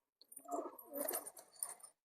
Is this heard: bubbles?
no